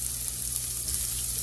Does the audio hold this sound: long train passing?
no